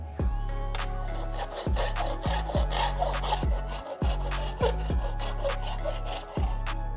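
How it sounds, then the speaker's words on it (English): A hand file rasps back and forth over high spots on a metal gullwing car body panel, a loud close grating scrape repeating in steady strokes about every half second. "So I'm just filing those highs down so it fits up perfect."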